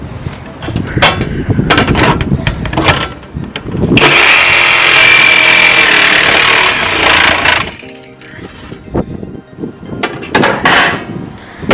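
A jigsaw cuts along drawn hole outlines in the metal body of a Mercedes Sprinter van, a loud, steady buzzing saw run of about four seconds between bursts of clattering handling and knocks.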